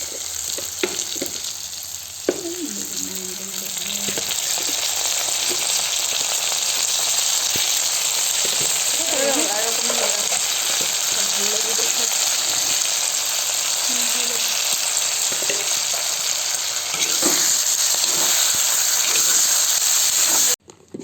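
Bamboo shoots frying with pork in a pan give a loud, steady, hissing sizzle that runs nearly unbroken and stops abruptly at the end, with a voice speaking briefly underneath.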